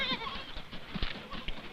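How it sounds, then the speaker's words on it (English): A rancher's herd of goats bleats in short, overlapping calls from several animals, fairly close and unaccompanied by talk. "Goats are the rancher's main livelihood"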